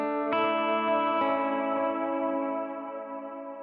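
A guitar run through a Bloom reverb pedal rings out a sustained chord, struck again once or twice, and swells into a long shimmering wash that slowly fades away.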